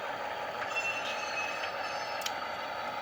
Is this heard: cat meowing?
no